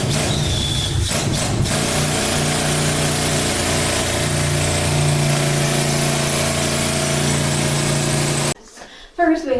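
A loud pneumatic mining drill runs with a steady mechanical drone and a sustained hum, continuous for several seconds before cutting off abruptly near the end.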